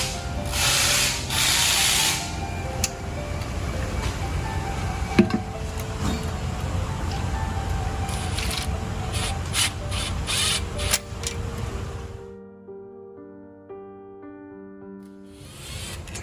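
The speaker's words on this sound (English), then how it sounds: "Taking off the trans pan. Lots of bolts. Lots of little 8mm." A ratchet or power tool loosens the small 8mm bolts on a 2020-2022 Shelby GT500's Tremec DCT TR-9070 transmission pan, a continuous loud rasping whir with brief clicks that cuts out near the end, then resumes.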